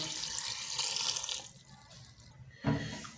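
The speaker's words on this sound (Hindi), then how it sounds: "अब इसी तरह इसके अंदर मैं 2 गिलास पानी जो है ये शामिल कर दूंगा।" Two glasses of water splash into a pressure cooker holding black chickpeas and turmeric, a brief rushing pour that stops, followed by a quieter pause and a short clunk.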